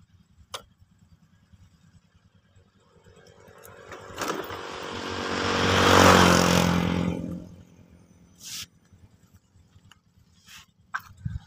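Honda Vario 125 FI scooter, emitting white smoke and dripping water from the exhaust, quiet idle ticking that swells into a brief rev and then settles back to a soft idle, with a few sharp clicks.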